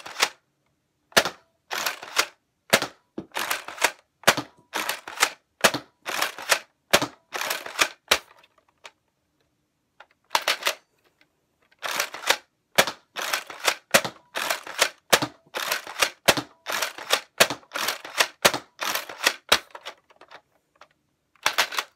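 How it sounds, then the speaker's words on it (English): A Nerf Zombie Strike Doominator blaster fires in rapid, loud bursts of sharp snapping shots close by, pausing briefly between volleys and then resuming in quick repeated runs. "the blaster is loaded, here we go."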